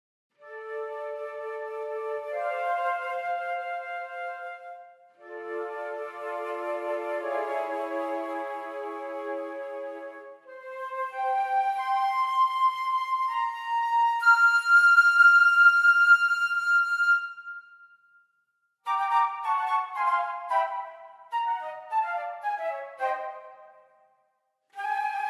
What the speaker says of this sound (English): So the flutes sound like this.